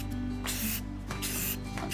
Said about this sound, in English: I'm just gonna spray them nice and lightly like that.